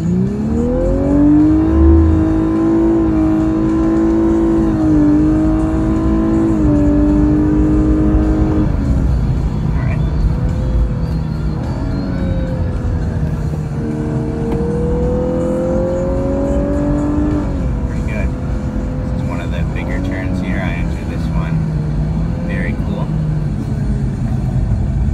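A 2018 Lexus LC500h revs and accelerates steadily on the Circuit of the Americas race track, its pitch rising and falling through gear changes, loud and close, with a sustained rumbling drone throughout.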